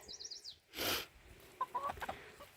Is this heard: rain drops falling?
no